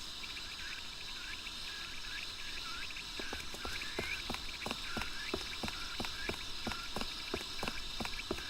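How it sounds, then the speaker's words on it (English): Cicadas in the Fragile Dreams video game play through a small Wiimote speaker as a steady high buzzing drone, joined later by a run of evenly spaced sharp clicks and chirps, with no talking. "the sound of cicadas coming through the Wiimote"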